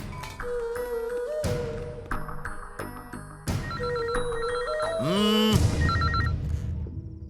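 A telephone rings with an electronic ringtone, repeating melodic tones in several bursts, loud and close, with no voices over it.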